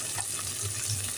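Ginger and garlic paste frying in a pan gives a brief, even, hissing sizzle at moderate level, with no talking.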